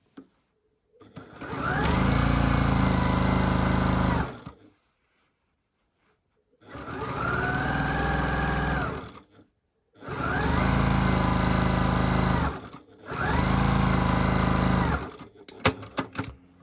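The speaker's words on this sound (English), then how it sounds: "I pull this taut and I sew all the way through to the other side" A sewing machine stitches binding onto a quilt in four loud, even bursts of rapid whirring, separated by short pauses, with no talking.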